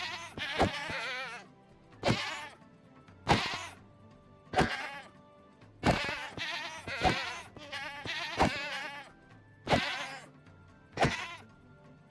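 Repeated loud goat bleats in Minecraft, about ten calls spaced roughly a second apart, over a low steady game hum.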